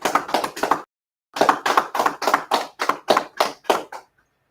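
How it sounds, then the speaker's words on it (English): A group claps in unison at a street gathering: three sharp claps, a brief pause, then a tight run of about ten loud, evenly spaced claps, close and with no talking. "All right, clap it up."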